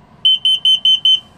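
Five short, high-pitched electronic beeps in a quick, even rhythm from a Hansshow automatic hood controller on a Tesla Model 3, loud and close, over a faint low background hum.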